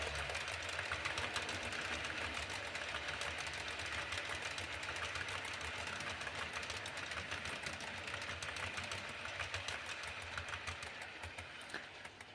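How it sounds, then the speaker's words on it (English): Express train hauled by the Kestrel locomotive with a rake of Mark I coaches heading to King's Cross, passing as a steady, distant rumble with rhythmic clatter of wheels on track, fading slightly at the end. "heading in the opposite direction on the last leg of its journey to King's Cross is an express hauled by Kestrel and a rake of Mark I coaching stock"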